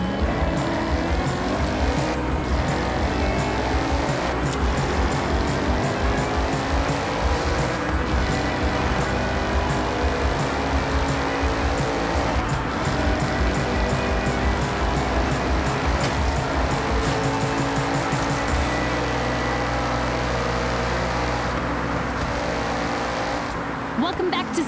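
A car drives through Forza Horizon 6 at speed, its engine note rising and falling through gear changes with tire noise, loud and continuous for the whole stretch.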